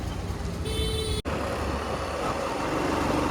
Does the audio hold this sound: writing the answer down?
no